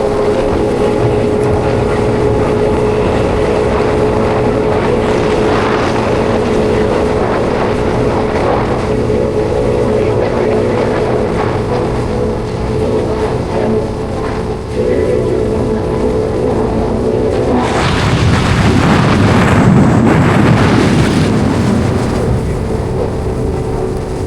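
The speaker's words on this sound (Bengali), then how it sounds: "প্রচণ্ড উইন্ডব্লাস্ট আসছে, যার জন্য টপ স্পিড অ্যাচিভ করা তো পসিবলই না" Strong wind blasts roar over a scooter rider on a rainy monsoon expressway run across a new bridge near Kalyani, a steady loud rush of buffeting noise that swells harder toward the end.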